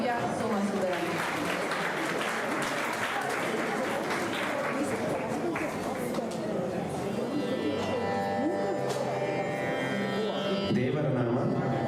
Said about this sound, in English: with a huge round of applause, let's welcome this Bharatanatyam performance by Divya Somasudaram